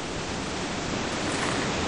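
River water rushing below the Capilano dam, a dense, steady roar of flowing water, loud and close with no break and no voices.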